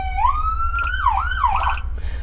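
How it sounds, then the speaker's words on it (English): An electronic siren on the Patagonia Fire Department Sandstorm brush truck, a Vengeant Apparatus build with a Whelen controller, wails and yelps through rising and falling sweeps, loud and close over a steady engine idle. "And then, of course, our normal siren tones here."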